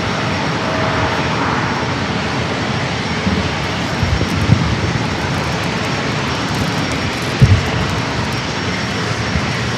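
An airliner's engines roar steadily during takeoff at San Diego airport, a loud, sustained broadband rumble with no talk over it.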